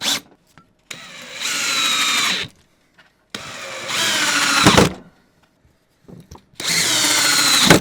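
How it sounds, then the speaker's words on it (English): A power drill drives a screw through a wooden bar on a plywood build in three loud, close bursts of motor whine, each a second or so long and separated by quiet pauses. "We're gonna screw our bar right through that."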